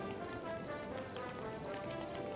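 Snare drum played as a trotting-horse rhythm in the Hytale game music, a quiet, steady clip-clop pattern layered under melodic soundtrack tones.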